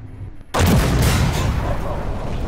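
A single loud tank cannon blast in a video game bursts in abruptly after half a second of quiet, then a heavy rumbling boom and echo trail off and linger through the rest.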